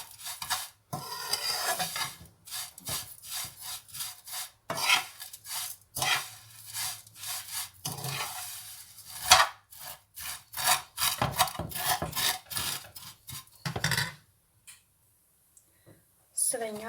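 Vermicelli is roasted in a pan and stirred with quick, dry scraping and rustling strokes of a spoon in irregular bursts, while someone speaks over it, and the stirring stops near the end.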